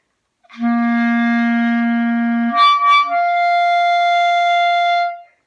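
A clarinet slurs between registers from a low C, a steady held tone that jumps up to a higher note with a brief squeaky transition, solo and close with no talking.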